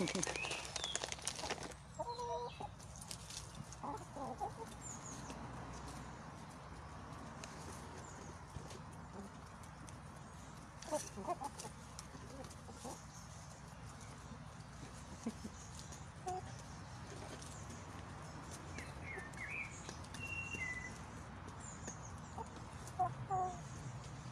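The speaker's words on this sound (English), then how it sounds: "I'll let you watch the chickens and say hello to each other." Chickens cluck softly around a wildlife garden, with scattered low clucks and small rustles at moderate distance, some brief speech mixed in.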